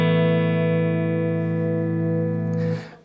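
A Stratocaster electric guitar on the neck pickup with all controls up, played clean and dry with no reverb, rings out as one sustained chord that holds steady, then cuts off sharply near the end.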